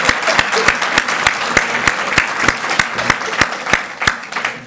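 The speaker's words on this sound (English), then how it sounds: "Let's give a round of applause to Linda Smith" Audience applause in a conference session on early childhood development in Indian Country, with steady dense clapping and a few sharp, distinct claps standing out near the front, sustained loud throughout.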